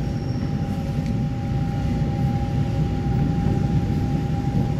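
A silver-green ten-car EMU900 electric multiple unit commuter train, set EMU913, rumbles steadily with a faint sustained electric whine, a continuous moderately loud roar with no voices.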